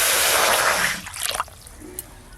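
Water pours briefly from a vessel onto washed masoor lentils in a pot, a steady gushing trickle for about a second, then a few small sloshes and drips.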